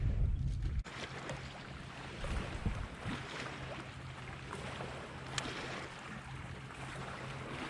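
A fishing boat pounds across choppy lake water, a steady broadband rush of hull slap, spray and motor roar close up, with a brief heavier thump at the start and no voices.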